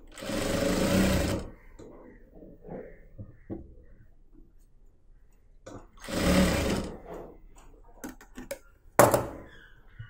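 A sewing machine stitching the folded neck edge of a churidar runs in two loud whirring bursts, separated by quieter clicks and handling noises of the fabric being adjusted.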